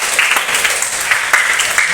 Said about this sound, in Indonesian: Tepuk tangan untuk Laras.